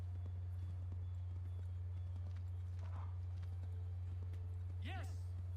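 A galloping horse in Assassin's Creed 3, quick rhythmic hoofbeats under a steady low hum, with a voice briefly breaking in near the end.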